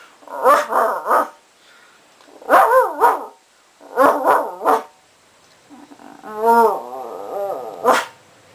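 A person imitates a dog, giving low guttural growls in short clusters of two or three, then a longer drawn-out bark-like sound, each burst loud and close with pauses between.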